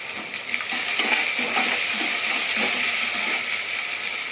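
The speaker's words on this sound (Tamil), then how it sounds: "இப்போ வெங்காயத்தை கூட சேர்த்துக்கலாம் ஃப்ரெண்ட்ஸ். அப்போ தான் நல்லா வெங்காயமும் சீக்கிரமாக வதங்கும்." Onions sizzle and fry steadily in a hot pan for prawn biryani, a loud, dense crackle close by, with occasional scrapes and clinks of a stirring utensil against the pan.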